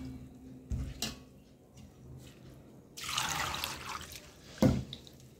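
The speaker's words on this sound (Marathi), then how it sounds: "असं पाणी टाकत राहायचं आणि धुवून घ्यायची" Water poured over lentils being washed, a soft running and splashing stream in a kitchen bowl, with a few louder knocks and a burst of pouring near the middle, no voices.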